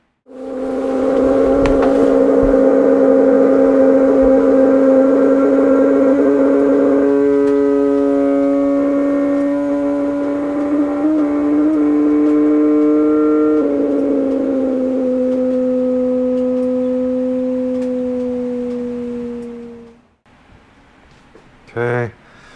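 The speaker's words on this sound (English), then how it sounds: "Let me play the clip what a bad gas cap sounds like." A bad gas cap on a Ferrari 360 Modena produces a loud, steady droning whine with a layered tone that shifts pitch slightly a few times, holds for about twenty seconds and then cuts off.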